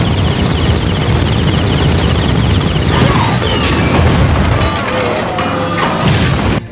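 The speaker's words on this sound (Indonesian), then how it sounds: "Ia ganti menembak Nebula dengan tembakan beruntun sampai pesawat Nebula terbakar parah" Loud film action effects: rapid bursts of spaceship gunfire, then a booming, crashing impact as a ship is hit and burns, with metallic debris rattling and a roar that fades near the end.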